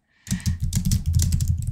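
Rapid typing on a computer keyboard, a steady run of close, crisp key clicks with no voice.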